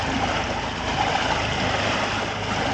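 Sherp amphibious vehicle being towed through water by a jet ski, a steady broadband rush of churning water and engine drone running continuously and fairly loud with no voices.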